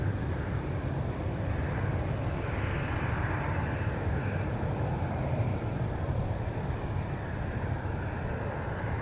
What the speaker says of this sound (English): KLM 250 Heavy with the Dreamliner off to AMS